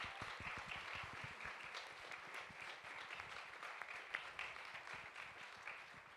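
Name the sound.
audience applause for conference panelists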